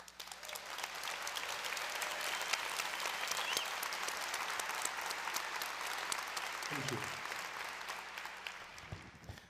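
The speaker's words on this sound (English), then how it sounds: "That was applause if you couldn't hear it." Audience applause fills the room steadily for about nine seconds at an event honouring Edward Snowden, dense clapping holding an even level before thinning near the end, with a brief spoken thanks from a voice.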